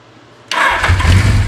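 An old, long-forgotten Suzuki engine cranks briefly and catches, going from near silence to a loud, rough, close running burble that holds steady.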